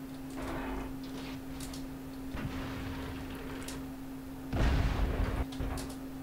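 Artillery fire in the tank battle game Battle for Norrbotten, heard as repeated muffled booming shots spread over several seconds with the loudest, heaviest blast near the end, over a steady low hum.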